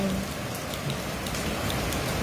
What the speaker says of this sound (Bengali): আর প্রচুর বৃষ্টি হচ্ছে